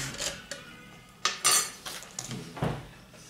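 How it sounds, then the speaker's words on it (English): Metal camping cook kit pots being nested together, with several sharp clanks and clatters of metal on metal, close and fairly loud, with no talking. "it all gets nested like that, and then it goes inside the pouch"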